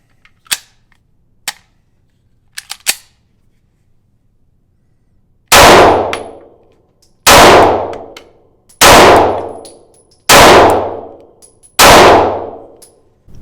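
Five loud, sharp pistol shots ring out about a second and a half apart from a Springfield Hellcat fitted with a Sig Sauer Romeo Zero red dot, fired at 10 yards, after a few faint clicks and handling noises.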